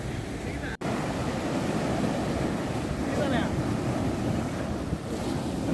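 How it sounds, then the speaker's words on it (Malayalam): Sea waves surge and wash continuously at Pozhikkara beach, a loud, steady roar mixed with wind buffeting the microphone and faint voices underneath. "ചില സമയം തിരമാലകൾ അടിച്ചിങ്ങ് ഒരുപാട് മുകളിലേക്ക് വരും."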